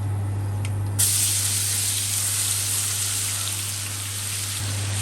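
Garlic-ginger paste frying in a pan with whole spices for chicken korma, giving off a loud, steady sizzle and spatter that swells slightly after the first second. A low constant hum sits beneath, with no talking.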